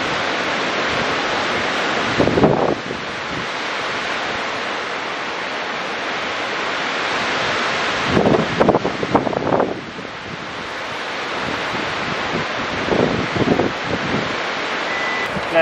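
Steady roar of ocean surf and gusting wind on a beach, loud and broadband, with wind buffeting the microphone in several bursts and no talking.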